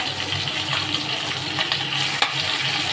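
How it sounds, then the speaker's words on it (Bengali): Fish fries in hot oil in a home kitchen, a close, steady dense sizzle and crackle with a few sharper pops, continuous and without talk. "দেখো মাছটা আমার ভাজা হয়ে গেছে"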